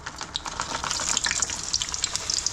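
A smash burger patty sizzles in a hot, smoking pan, a close, continuous crackling hiss with scattered sharp pops throughout, no voices.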